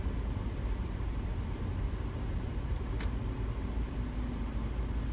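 Steady low rumble of a car rolling through city traffic, a continuous broadband road noise that stays even throughout with no talking.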